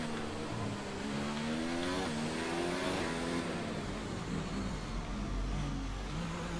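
An F1 race car engine from F1 2019 screams through gear changes on a fast qualifying lap at Monaco, a steady high-pitched whine rising and dipping with shifts, loud and unbroken with no talk.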